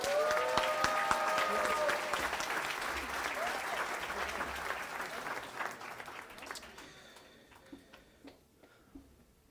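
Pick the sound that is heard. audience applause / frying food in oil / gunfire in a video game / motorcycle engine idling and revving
audience applause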